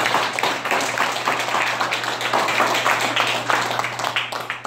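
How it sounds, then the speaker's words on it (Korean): Audience applause at a Saturday special lecture: dense, steady clapping from a crowd that fills the whole stretch at an even level, with no voices rising above it. "우리 우선 박수 한번 크게 부탁드립니다"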